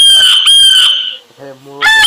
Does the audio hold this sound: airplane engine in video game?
no